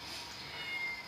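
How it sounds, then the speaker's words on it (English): A kitten meows indoors, a faint thin cry drawn out over about a second against quiet room background. "because my kitten's inside meowing"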